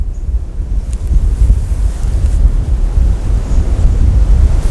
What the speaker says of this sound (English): Now I have to wait for this wind again.